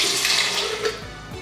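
Water poured from a 200 ml cup into a blender for creamy Swiss lemonade, a steady close splashing stream that runs for about a second before easing off.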